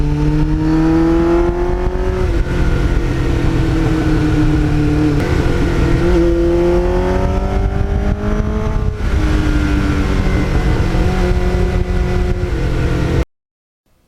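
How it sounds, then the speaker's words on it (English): A 1989 Kawasaki GPX750R motorcycle engine drones loudly and close with a mellow tone, rising and falling in pitch across several throttle changes before cutting off abruptly at the end. "It's got a nice mellow tone, and only at really 3/4 to full throttle opening does it get a little raspy"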